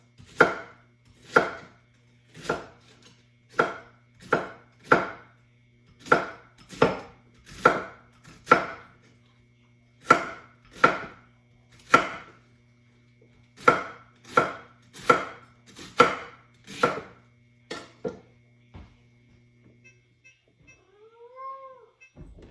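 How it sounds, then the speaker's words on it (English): Steady, evenly spaced knife chops on a cutting board, about twenty crisp strikes, close and clear, followed by a faint cat meow at the end. "I should get to chopping this"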